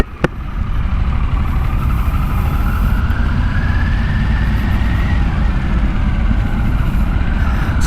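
Steady engine drone from a 2021 Harley-Davidson Pan America motorcycle under way, loud and continuous with wind rush and a rising mid-pitched whine, a sharp click near the start.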